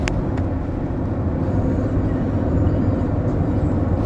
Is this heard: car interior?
yes